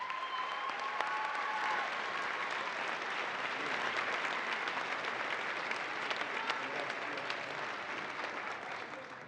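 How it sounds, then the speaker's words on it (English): Sustained applause from the audience at a graduation ceremony for astronauts, a dense, continuous clapping roar that holds steady for the whole stretch and fades slightly toward the end. "Please join me in a round of applause for them as well."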